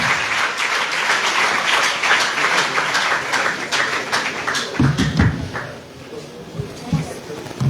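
Audience applause greeting guests at a morning event at Camp Flambeaux in Ségou, a dense steady clatter of many hands filling the room, thinning toward the end as voices and shuffling rise beneath it.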